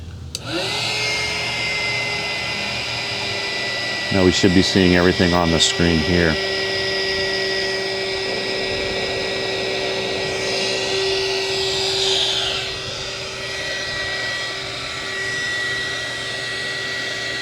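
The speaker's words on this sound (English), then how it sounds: "Now we'll just turn on the blower" A steady electric blower, powered by a pure sine wave inverter drawing 2 amps at 120 volts, hums and whirs continuously throughout, with someone talking briefly over it partway through.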